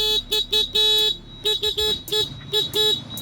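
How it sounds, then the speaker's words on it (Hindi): A Honda Activa 6G scooter's basic horn honks in a rapid series of short beeps, bright and close, repeated in uneven bursts with brief gaps between them. "आपका हॉर्न है, बहुत ही बेसिक से हॉर्न है इसमें"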